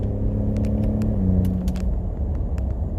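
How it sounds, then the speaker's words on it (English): A second-generation Ford Raptor's engine drones under load in sport mode through a 10-speed automatic, a steady low rumble with a tone that drops partway as a gear changes, plus a few faint clicks; no talking. "I'm gonna put it in sport mode. And I'm actually shifting myself now."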